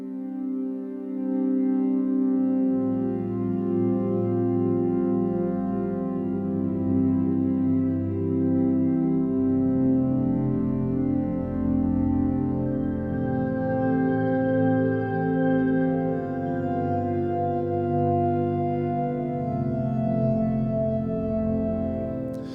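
A soft, slowly evolving synth pad, a weightless atmospheric layer of sustained harmonic tones that shift gradually over a deep low drone, steady and smooth throughout.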